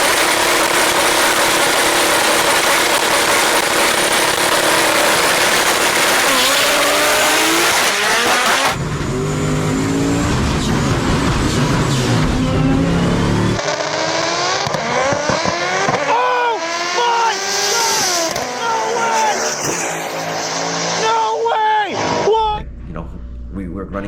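A roughly 1800 AWHP Honda Civic drag race car with a billet engine revs hard and loud, its pitch sweeping up and down repeatedly, with speech over parts of it.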